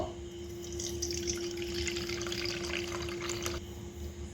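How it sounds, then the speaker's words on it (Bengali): Tap water runs steadily into a bowl in a kitchen, the water for soaking crustless bread for Kolkata-style chicken cutlets, a continuous close splashing hiss over a low electrical hum. "এবার আমি একটা বাটিতে জল দিয়ে দেব"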